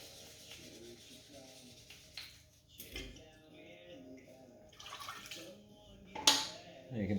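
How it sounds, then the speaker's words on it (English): Scrubbed clam shells get rinsed under water, with soft splashing and clinking of shells and dishes in a kitchen, faint and close, broken by a few sharper knocks and a brief louder burst of running water near the end. "Every couple seconds, just giving them a quick bath of some water here to get that extra material off that you've been scrubbing off."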